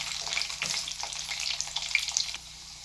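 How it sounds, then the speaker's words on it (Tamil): Garlic frying in a pan for Tamil-style egg kurma, a steady close sizzle with light stirring scrapes throughout, no talking. "பூண்டு இந்த அளவுக்கு ஃப்ரை ஆனதுக்கப்புறம்"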